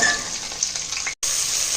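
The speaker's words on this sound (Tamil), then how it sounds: "இப்போ நறுக்கி வச்ச காய்கறிகளை அதோட சேர்க்க போகிறோம்" Chopped vegetables for vegetable biryani sizzling and hissing in a hot pan, a steady close crackle that cuts out for a split second before resuming.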